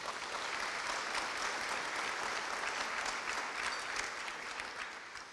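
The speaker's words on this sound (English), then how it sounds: "Let's give them a round of applause." An audience at a city's state-of-the-city program breaks into sustained applause, a dense, even patter of many hands that holds steady and tapers toward the end.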